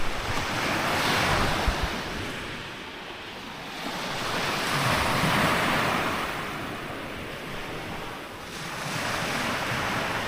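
Ocean surf rolls in broad swells, rising and falling about every four seconds, with steady wind noise over it and no voices.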